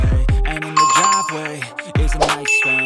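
A bright chime rings out twice, each strike a clear ringing bell tone that decays over about a second, the second coming shortly after the first.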